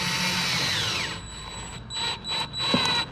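A cordless drill whirs steadily, then pauses and restarts in short bursts as it drives a screw into the wooden top of a step stool, ending with a brief crunch; no one speaks.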